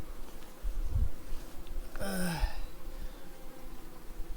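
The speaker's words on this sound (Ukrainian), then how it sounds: "Бджола відносно спокійна." Carniolan honeybees at an open hive produce a steady, low buzzing hum throughout, with a brief louder rustle or handling noise near the middle.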